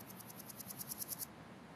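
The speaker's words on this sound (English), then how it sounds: "the grasshopper is making the noise by rubbing its leg against its" A grasshopper's high, buzzing song in a quick train of about a dozen rhythmic pulses that grow louder, then stop.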